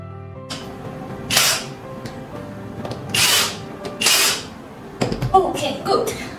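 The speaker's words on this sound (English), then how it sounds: "Use electronic screwdrivers, thread and lock the M4 screws for 4-piece power terminals." An electric screwdriver drives M4 screws into the four-piece power terminals of a 48V 280Ah solar battery pack, three loud whirring bursts of about half a second each, with softer handling clicks and faint talk between them.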